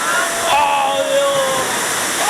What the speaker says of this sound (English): And here comes the waterfall.